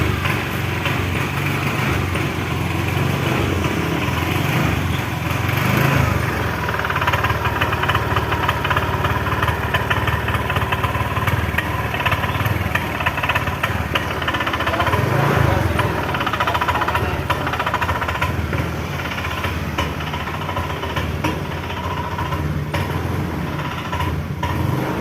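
Honda Vario 125 scooter engine that has lost power, running steadily and close up under throttle with a rough, uneven, sputtering tone for the whole stretch.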